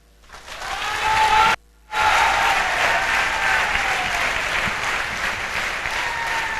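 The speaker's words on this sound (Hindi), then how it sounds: "अगर एक ताली उनके लिए नहीं बजी तो गलत हो जाएगा" Sustained audience applause at a seminar for a safe-shopping business team, rising quickly and staying loud and dense, with a brief abrupt dropout near the middle before clapping resumes at full strength.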